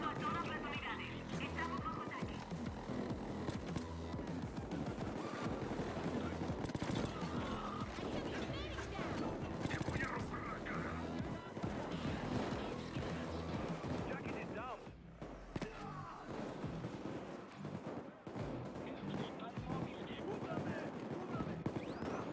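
Gunfire from the video game Payday 2, dense and continuous bursts of shots and explosions running through the whole stretch, loud and busy, with a voice talking over it.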